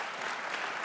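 A brief, steady burst of audience applause at a live book talk event, moderately loud and without breaks.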